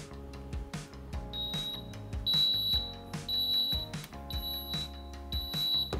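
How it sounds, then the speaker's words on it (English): A Cuisinart WAF-V100 vertical waffle maker sounds its temperature-ready signal, a series of high steady electronic beeps repeating at regular intervals over low background hum, fairly close and clear with no talking. "Let's wait for the beep because it needs to set to the right temperature first"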